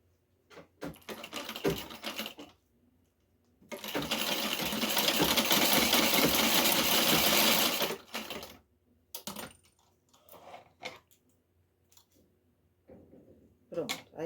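Sewing machine running a safety seam in a burst of about four seconds of steady, close stitching, framed by scattered handling clicks and taps before and after.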